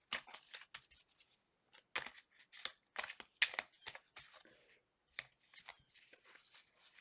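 Tarot cards being shuffled in quick riffling bursts, with a few short pauses between rounds; close and fairly crisp.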